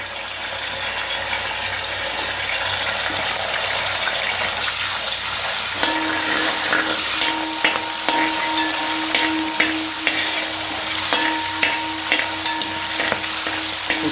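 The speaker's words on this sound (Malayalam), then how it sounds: "എണ്ണ ചൂടായിട്ട് അപ്പം ഞാൻ ഈ വെളു വെളുത്തുള്ളിയും കുരുമുളകും എല്ലാതും കൂടെ ഇട്ട് കൊടുക്കട്ടോ" Garlic and black pepper frying in hot oil for an elephant foot yam pickle, a loud, dense, continuous sizzle and crackle close up, with a faint tonal hum joining partway through and occasional stirring clicks.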